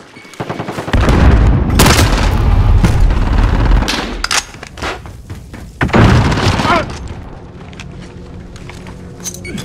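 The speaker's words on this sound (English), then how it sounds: "Grenade out!" Loud booming blasts and gunfire from a Call of Duty Modern Warfare Hardpoint match, with a heavy grenade explosion roaring up around the one-second mark and a second big burst near six seconds, then quieter rattling game effects.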